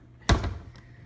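A kitchen spice drawer is pulled open with a single close thud and a brief rattle of jars, then quiet room tone.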